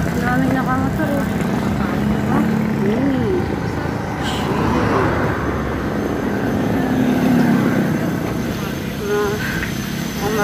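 Motorcycles ride past on a road in Doña Remedios Trinidad, Bulacan, near Bustos Dam Ecopark. A loud, continuous engine drone carries rising and falling whines as bikes pass close by.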